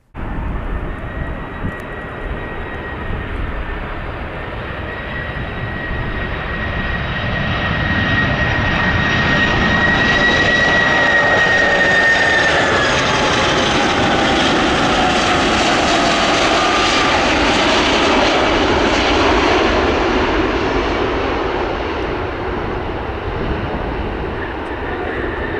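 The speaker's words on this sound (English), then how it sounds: "Gotta love the 747." Boeing 747 cargo jet at O'Hare airport, a loud, sustained engine roar that swells as the aircraft nears and passes, with a thin whining tone on top, then slowly fades.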